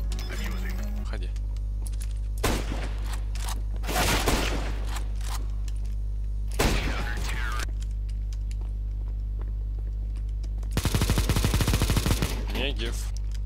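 Loud bursts of gunfire in CS GO, including a Negev, in rapid volleys separated by pauses, with a long sustained automatic burst near the end over a steady low hum.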